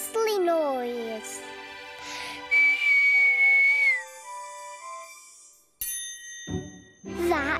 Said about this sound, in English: If we whistle, we can make the stars jingle.